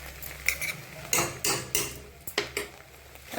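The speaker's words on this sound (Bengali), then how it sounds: "এখন আর একটু শেষের দিকে নাড়াচাড়া করে দিই।" A spoon stirs and scrapes kusi frying in ghee in a pan, giving a run of distinct clinking, scraping knocks at an uneven rhythm, close and fairly loud, with no voice.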